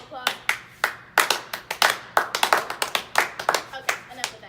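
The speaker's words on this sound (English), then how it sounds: "Can we get a round of applause?" A small campus audience claps for fraternity members: sparse, distinct handclaps in an uneven rhythm, close by, with a few voices mixed in.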